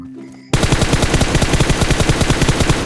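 Automatic rifle fire in the mobile battle royale game PUBG Mobile, a loud, rapid, sustained burst of shots that starts abruptly after a brief quiet moment and hammers on evenly to the end.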